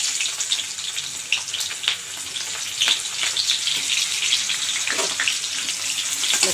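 Onion with mustard seeds sizzles in hot oil, a close crackling fry with irregular pops and bursts that continues throughout, no speech.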